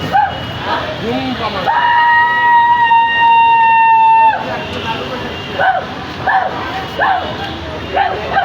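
A dog barks and yips in short bursts at Dewanhat junction in front of the City Corporation market, with one long, drawn-out whining howl in the middle, while people talk nearby after it bites someone.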